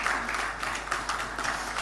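Audience applause for former Ghanaian President John Agyekum Kufuor at a media forum, a steady, dense wash of many hands clapping together, moderately loud and continuous throughout the short stretch with no voices on top.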